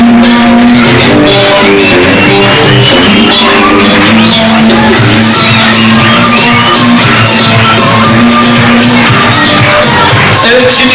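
A wedding crowd shouts, whoops and cheers loudly and continuously as the cake is carried into the hall, with music and voices mixed into the dense din.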